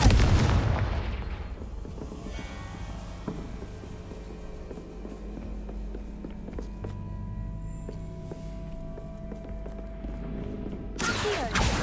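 Blasting-spell explosions in the game Hogwarts Legacy: a loud burst at the start and another near the end, with a low rumbling game backdrop between them and no talk.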